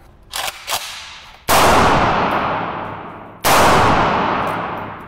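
Two booming 7.62x54R rifle shots fired at body armor, the first about a second and a half in and the second two seconds later, each loud and close with a long decaying echo, following a couple of faint sharp clicks.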